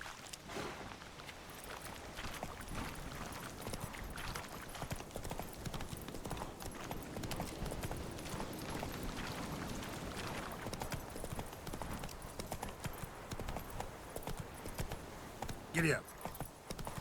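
A horse gallops in The Witcher 3, with rapid, continuous hoofbeats running steadily for the whole stretch, fairly close, alongside a voice speaking and a brief sharp chime late on.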